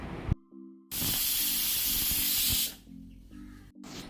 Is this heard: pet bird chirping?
no